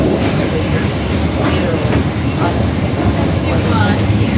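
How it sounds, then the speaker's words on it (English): Steady, dense rumble and clatter of an old, rickety sleeper train rolling along in Vietnam, continuous and fairly loud, with faint rhythmic clicks of wheels on track. "let's hope we can get some sleep on this fairly old, slightly rickety, and quite noisy sleeper train"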